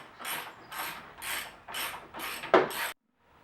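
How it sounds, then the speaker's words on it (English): A hand ratchet tightens a plastic HDPE skid plate on an Iron Baltic installation, six rapid bursts of loud close clicking in a steady rhythm, then silence. "we'll take our ratchet, tighten the skid plate up"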